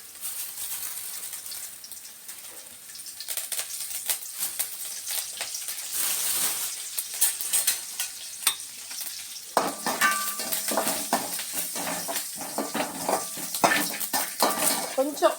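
Curry leaves sautéing in hot oil in a pan for a Nagercoil-style okra dish: a steady close sizzle with clinks and scrapes of a spoon against the pan, growing busier and louder in the second half.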